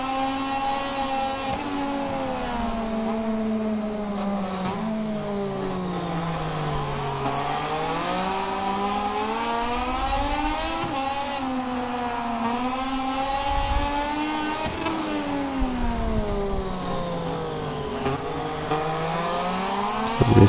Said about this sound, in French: la sonorité du moteur de Triumph